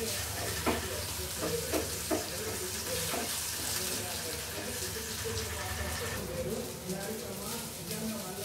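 Pulihora, tamarind rice, sizzles and fries in a pan as it is stirred, with scraping strokes and a steady hiss while a person talks nearby.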